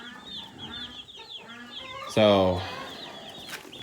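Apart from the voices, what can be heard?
Cornish cross meat chickens clucking in the barn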